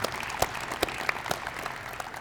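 Scattered applause at a senior breakfast honoring student leaders, thin and moderately distant clapping with a few louder individual claps, brief.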